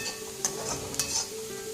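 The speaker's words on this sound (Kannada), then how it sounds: "ನೋಡಿ ಇದೀಗ ಚೆನ್ನಾಗಿ ಫ್ರೈ ಆಗಿದೆ" Bitter gourd frying in a pan for a gojju recipe, a steady soft sizzle with a few light clinks and scrapes as a utensil stirs it, close and alone.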